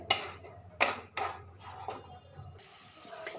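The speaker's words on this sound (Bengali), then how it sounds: "এবার মশলাটাকে কষে নেবো যতক্ষণ পর্যন্ত না তেল ছাড়া ছাড়া হচ্ছে" Spice paste being fried and stirred in a pan for a village-style fig (dumur) curry, with several distinct scraping clinks of a utensil against the pan followed by a softer sizzle toward the end.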